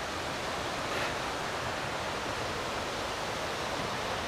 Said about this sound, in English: This waterfall just here is very accessible